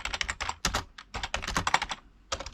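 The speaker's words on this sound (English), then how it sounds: "Excuse my horrible typing." Rapid, irregular clatter of keys being typed on a computer keyboard, close by, in quick bursts with brief pauses between.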